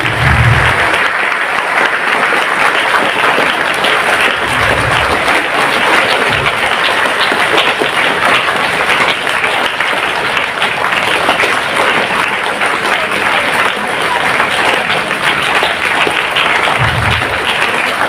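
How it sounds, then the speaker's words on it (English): Children and guests at a school teachers' award ceremony keep up loud, dense, continuous applause, a steady wash of clapping that lasts throughout without pause. "Let's give a huge round of applause to Dr. Inderjeet Kaur."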